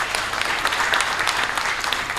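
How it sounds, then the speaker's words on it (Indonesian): An audience at the opening of a documentary film festival screening applauds in a steady, even burst of clapping, moderately loud throughout. "Kita berikan tepuk tangan apresiasi."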